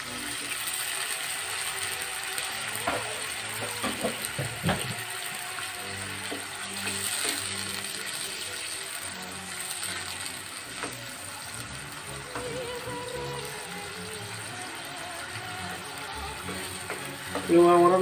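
Spatula stirring olive barb fish curry in a pan, a steady run of scraping, clicking strokes with a soft sizzle underneath, close and fairly even, with a louder burst at the very end.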